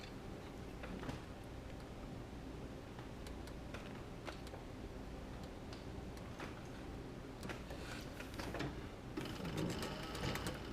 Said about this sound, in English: So we're going to stitch this, and I'm stitching like an 1/8 of an inch